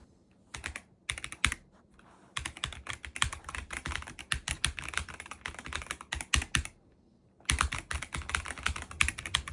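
Typing on a Razer BlackWidow V4 Pro 75% mechanical keyboard, with rapid close-up key clacks in dense bursts separated by brief pauses, alone and crisp.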